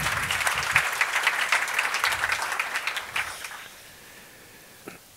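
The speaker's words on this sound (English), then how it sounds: "So I think a big applaud for this panel and their wallets." An audience at a startup investor panel claps for several seconds, a moderate, fairly distant patter that thins out and dies away, leaving near quiet with one last stray clap.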